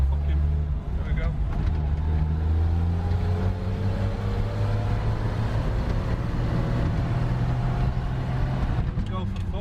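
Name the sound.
old Chevy 3600 truck driving and rattling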